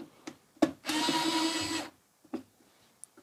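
Cordless power driver backing out a screw, one whirring run of about a second bracketed by short clicks and taps, close and fairly quiet in a still room.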